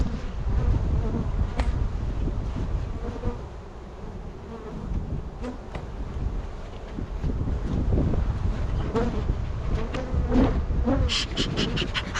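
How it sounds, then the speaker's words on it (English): Honey bees swarm and buzz steadily around an opened hive in a mountain bee yard, a dense close drone with wind gusts brushing the microphone throughout. "Nice bee population."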